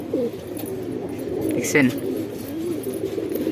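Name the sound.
Shahjahanpuri pigeons cooing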